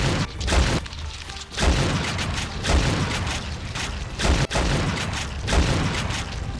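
Exploding wall creatures in a dinosaur video game set off repeated heavy booms, several deep blasts roughly a second apart, loud and close over a dense rumbling background.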